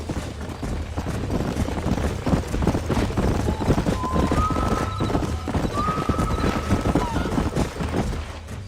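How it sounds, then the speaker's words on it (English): Horses in the Red Dead Redemption video game, hooves clip-clopping steadily throughout with a couple of drawn-out neighs rising over the middle, dense game ambience underneath. "These are fine horses."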